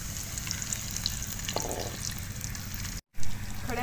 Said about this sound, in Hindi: मसालों को हमने थोड़ा सा रोस्ट कर लिया है